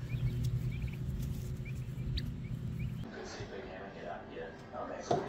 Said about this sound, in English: the geese are going to be Goose and Maverick